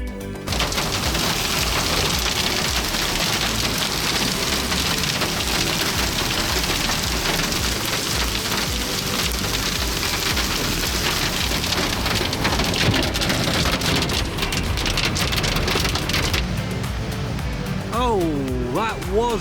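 Heavy rain from a storm pours steadily in a dense hiss, with rolling thunder from cloud-to-ground lightning. A voice is heard faintly near the end.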